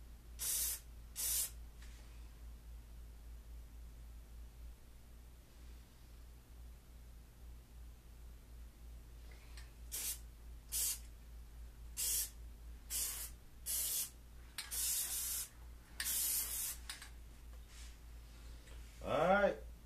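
Short bursts of aerosol Plasti Dip spray being applied to a car windshield, a run of separate hissing puffs of varying length with quiet gaps between, fairly close and no talking over them.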